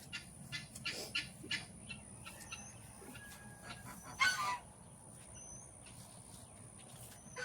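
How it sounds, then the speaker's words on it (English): Guinea fowl call noisily around a yard, with scattered harsh, rattling cries near and far over a low steady hum and faint insects, peaking in one loud burst midway. "The guineas hear me now, so they're going to make a big old ruckus."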